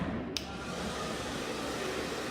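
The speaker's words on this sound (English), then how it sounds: "the dryer is going to help you to manipulate and move the hair around" Handheld hair dryer running steadily throughout while styling a model's short layered haircut, a continuous airy whoosh with a brief click near the start, no talk.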